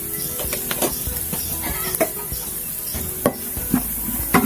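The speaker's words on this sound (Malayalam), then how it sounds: "നന്നായി യോജിപ്പിക്കുക." Spatula stirring a garam masala mixture with chopped chapathi in a frying pan for Kerala-style kothu chapathi, irregular scraping clinks against the pan over a soft, steady sizzle.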